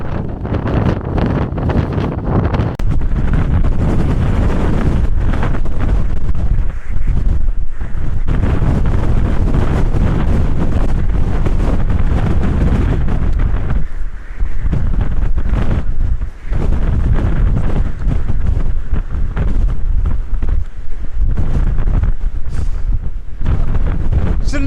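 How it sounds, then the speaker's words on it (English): Strong wind buffets the microphone outdoors near a castle, a loud continuous rumbling roar with gusty surges throughout and no speech. "It's a little bit windy."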